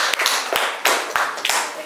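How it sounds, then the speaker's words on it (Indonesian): A classroom group of students claps after a presentation, a short burst of sharp, uneven hand claps with distinct individual slaps, and a voice briefly heard among them. "Ya, tepuk tangan."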